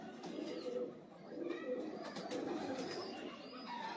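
Pigeons kept by a breeder coo softly in low, rounded repeated calls, faint and somewhat distant over light background noise, with no clear speech.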